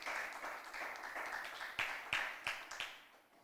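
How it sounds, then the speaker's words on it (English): Applause from an audience at an inter-secondary school debate, a steady crowd patter that thins into a few separate louder claps near the end before fading. "Give a round of applause for Abigail Rojas from the Princess Margaret School"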